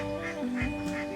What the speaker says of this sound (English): Some of Sidoni's tenants are these Indian runner ducks.